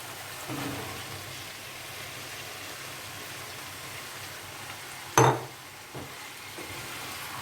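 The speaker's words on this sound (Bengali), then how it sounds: "আলুর সাথে এবারে আরেকটু মিশিয়ে নিয়ে ভালোভাবে একটু কষিয়ে নেব" Fried potatoes being stirred into a spicy masala in a hot pan, a steady close sizzle running throughout with scraping strokes and one sharp clank of a utensil against the pan, no talk.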